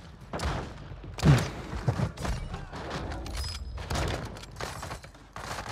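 Gunshots in the Call of Duty game on Ashika Island, a few sharp reports spread among in-game thumps and ambient noise, moderately loud with no talking.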